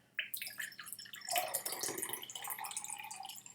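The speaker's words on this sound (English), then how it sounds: "I think we should pour some water too" Water splashing and trickling into a glass beside a whisky tasting of Tomatin 18 Highland Single Malt Scotch, a close, busy pour with dripping that runs steadily to the end.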